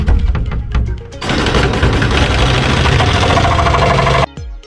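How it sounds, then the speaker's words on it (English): A cordless jigsaw cuts through fiberglass during a Movano van conversion: a few light taps, then a loud, steady rattling buzz for about three seconds before it stops abruptly. No one speaks. "this cordless jigsaw without paying a lot, because without it, it would be really hard to cut through the fiberglass"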